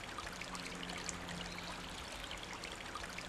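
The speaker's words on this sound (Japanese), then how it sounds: "綺麗な水が流れている" A clear river in Komaki, at a spot known for fireflies, runs with a steady, even rush of flowing water, constant and close with no talking over it.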